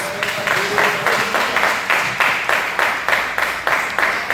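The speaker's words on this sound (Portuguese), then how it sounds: "E as palmas que exaltam a Deus." Congregation in a Brazilian church service claps in unison, loud rhythmic hand claps repeating steadily about twice per second in a close, reverberant room, with no speech over them.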